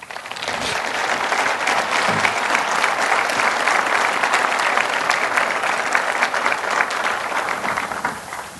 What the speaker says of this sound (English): let's applaud their efforts one more time